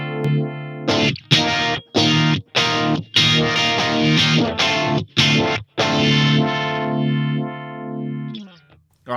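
Electric guitar played through a phaser pedal placed after the amp, with a swirling, distorted effect over choppy strummed chords and a few sustained notes that ring out and fade, loud and alone.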